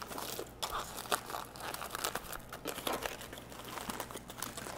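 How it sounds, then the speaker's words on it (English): Aluminum foil is peeled and rolled back from a dish of cooked food, giving close, soft crinkling and crunching rustles that come in irregular bursts throughout, with no talking. "I'll just roll back the foil a little bit and then put it into my bread basket"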